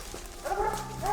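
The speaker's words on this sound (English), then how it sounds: "As the dogs grew louder," Hunting dogs bay on a Vermont mountain bear hunt, a brief distant burst of barking over outdoor background noise.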